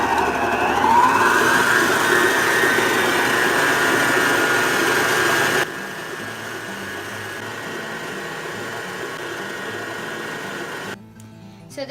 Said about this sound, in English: I'm going to whisk this on high speed for 1 to 2 minutes